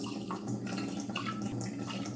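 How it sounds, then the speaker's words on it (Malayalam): Water poured from a tap onto washed moong dal in a pressure cooker for Kerala sadya-style parippu curry, a steady close running splash lasting the whole moment with no talk. "ഇതിലേക്ക് ആവശ്യത്തിന് വെള്ളം ഒഴിച്ചു കൊടുക്കാം."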